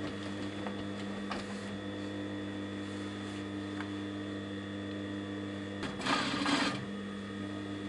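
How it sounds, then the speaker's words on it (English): A sewing machine stitches corset seams with a steady mechanical whir and hum that runs close and continuous, followed by a brief louder clatter near the end. "we're going to put seams to seams, seam to seam, there, and we're going to stitch it all the way along"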